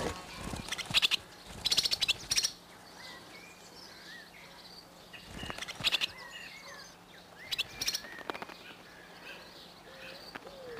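Young swallow fledglings in a Cotswolds barn, ready for first flight, give bursts of high, thin chirping calls in clusters, over a steady hum of insects or crickets and quiet rural background.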